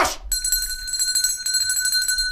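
A bell rings continuously in a rapid, bright metallic trill with steady sustained tones, starting abruptly after a brief burst of noise and staying loud throughout.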